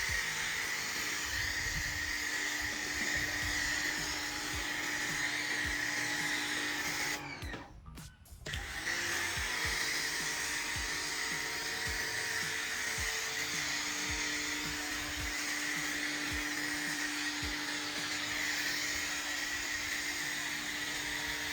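Ryobi automotive pressure washer spraying foam onto a car, a loud steady motor whine and spray hiss that briefly cuts out and restarts, close and continuous, no talking.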